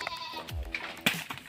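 An F3 Boer doe bleats in a short, wavering call, close and fairly loud, with a second sharper bleat following near the end.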